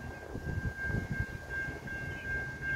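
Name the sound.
double-decker diesel train entering station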